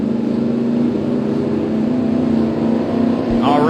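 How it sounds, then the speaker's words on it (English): Drag race cars running LSX engines with Precision Turbo turbochargers sit on the throttle at Atlanta Dragway, a loud steady engine drone ending in a rising whine as the turbos spool. "The turbochargers from Precision Turbo and Engine are spooling."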